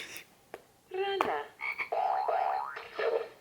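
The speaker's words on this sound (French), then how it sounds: "C'est la grenouille." Frog croaking close and loud in several bursts, raspy pulsed calls with rising, wavering tones and short gaps between them.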